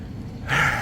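Heavy, breathless panting from a person winded after climbing a tower on a walk in Porto, a close audible exhale swelling in the second half with no talk.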